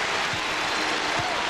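Basketball arena crowd cheering and applauding a made free throw at a 2001 Big 12 game, Iowa State at Kansas, a dense steady roar of clapping and cheers with no break.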